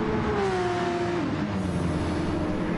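A GT race car engine at full throttle on a hot lap on fresh tires, droning loud and steady, its pitch dipping as it shifts or brakes, then pulling on, with no talk over it.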